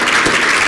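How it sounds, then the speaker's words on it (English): Audience applause at a premier's economic address in Surrey, a loud, dense, continuous sheet of clapping from a large crowd, filling the whole brief moment. "I appreciate that applause"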